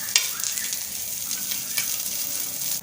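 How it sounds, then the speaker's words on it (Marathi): Fresh coconut pieces roasting in a pan for stuffed capsicum give off a steady, soft, crackly sizzle close by, with a few brief sharper ticks and no voices. "इथे आपण ओल्या खोबऱ्याचे तुकडे घेतलेले आहे, ते भाजून घेऊया"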